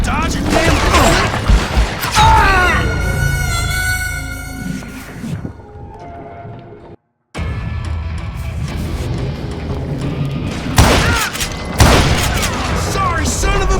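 Gunshots and booming blasts go off in the Western shooter Call of Juarez Gunslinger. The loud bursts are mixed with a voice and game music, and a brief silent gap cuts through the middle.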